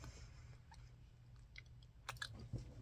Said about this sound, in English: you're eating a cereal bar.